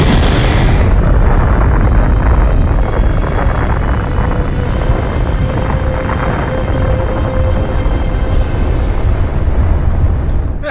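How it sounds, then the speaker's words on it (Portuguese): A huge, near-nuclear explosion in the video game God of War (2005) rolls out as a loud, continuous roaring rumble that holds steady for several seconds and then cuts off. "uma explosão praticamente nuclear é suficiente para destruir"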